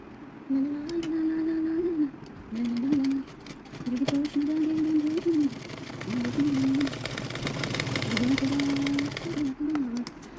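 Sewing machine stitching a panel onto a small baby palazzo, running in short bursts of motor hum with brief pauses between, close and fairly loud.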